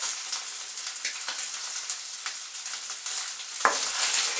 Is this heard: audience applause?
no